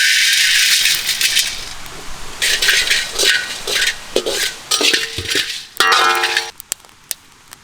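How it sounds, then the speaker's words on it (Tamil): Coriander seeds being dry-roasted in a pan in a village kitchen, a loud dry rattling swish as the seeds are tossed and stirred in bursts, with scraping pauses between and no talk. "மல்லி அழகாக வறுத்து எடுத்துக்கணுமுக்கா."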